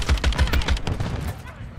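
Rapid, evenly spaced gunshots from a Modern Warfare 3 match, a loud close burst of fire that quickly tails off into fainter shots.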